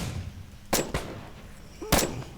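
A few sharp gunshots in the Roblox game Edward the Man-Eating Train: one burst followed quickly by a second, then another after a pause, over a low background rumble.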